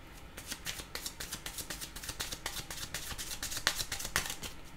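Tarot cards being shuffled by hand, a steady run of quick, crisp riffling flicks close up, fairly quiet, with no voices.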